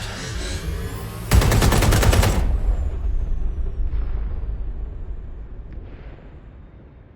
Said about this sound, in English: Moments ago, a series of explosions devastated 3 sites in London.